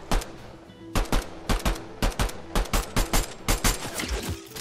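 Rapid, loud pistol gunfire in a Fortnite match, a steady run of a dozen or so sharp close shots with brief gaps, alone without talk.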